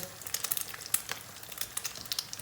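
Egg-dipped chicken meatballs frying gently in a pan over low heat, giving a faint, steady crackle with scattered small pops and no talk.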